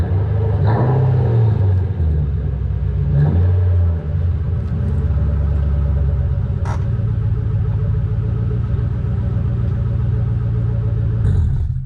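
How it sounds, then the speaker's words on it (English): Rumbling engine of a 1998 SN95 Mustang Cobra being driven out, a deep, loud, close idle burble with a few throttle blips and swells, plus faint clunks in the background. "So let's bring out the Cobra."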